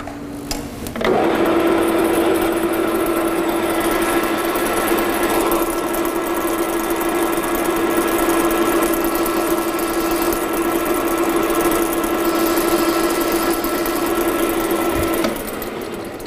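A metal lathe chamfers a sharp edge on a workpiece. It gives a steady, fairly loud motor hum with a constant whine and a light cutting hiss that run unbroken for about fifteen seconds, then tail off.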